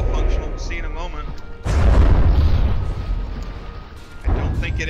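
A cannon fires in the naval combat game From the Depths with a deep, loud boom that rolls on for about two seconds, followed by a second heavy thud, while someone talks over the sound.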